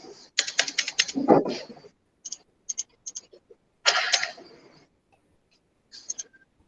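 Laptop keys clatter in quick close bursts, a rapid run of clicks, then a few scattered taps and another flurry, in a quiet room.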